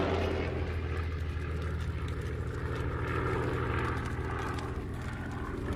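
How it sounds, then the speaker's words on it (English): German bomber plane engines droning during raids on Grozny in October of World War II, a steady low propeller rumble holding at an even level throughout, with no voices. "On his orders, Richthofen and his remaining 123 working bomber planes launch a series of raids on Grozny"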